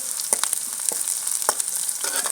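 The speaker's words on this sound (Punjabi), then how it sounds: "ਗੰਡਾ ਹਰੀ ਮਿਰਚ ਲਸਣ ਭੁੱਜ ਗਏ" Chopped onion, green chili and garlic fry in a pan for a Punjabi mixed vegetable sabji, a steady close sizzle with scattered crackles and stirring scrapes.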